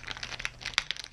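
Thin plastic parts bag of a Tamiya SU-76M Soviet self-propelled gun model kit being pulled open at its small staples, giving a close, quiet run of crinkling and crackling rustles with a few sharper snaps, no talking.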